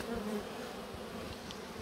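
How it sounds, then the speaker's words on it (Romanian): Honeybees buzz around freshly cleaned hive frames and feeders scraped free of wax and propolis, a steady close hum that fills the short moment without any voices. "Albinuțele își fac treaba."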